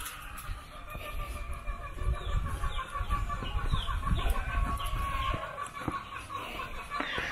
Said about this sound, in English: So this is the poultry